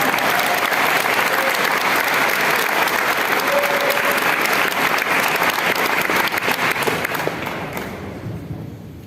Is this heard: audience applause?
yes